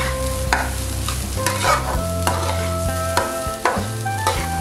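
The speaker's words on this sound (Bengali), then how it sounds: "প্রায় 2 মিনিট ধরে এই চাল আর ডালটাকে সবজির সঙ্গে কষিয়ে নিতে হবে।" Rice and lentils are stirred and fried with vegetables in a pan for khichuri, making a steady close sizzle broken by repeated scraping strokes and clinks of a spoon against the pan.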